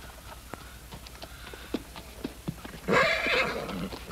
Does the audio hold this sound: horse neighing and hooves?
yes